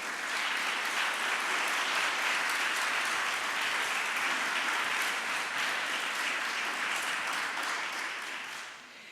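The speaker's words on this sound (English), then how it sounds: "Please join me in giving all of our sponsors a round of applause." Sustained, full applause from a ceremony audience at an annual lecture and awards event, many hands clapping loudly and evenly for several seconds before tapering off at the end.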